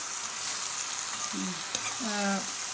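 Chicken liver pepper fry with ginger and garlic sizzling in hot oil in a pan, stirred now and then: a soft, steady crackling hiss with a couple of faint utensil scrapes and squeaks close by.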